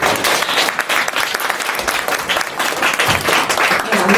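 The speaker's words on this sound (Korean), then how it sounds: "우리 이미경 교수님 큰 박수로 환영해 주십시오." A concert audience at a hanok music event claps loudly and steadily to welcome a performer onto the stage, a dense, sustained round of applause with no talking over it.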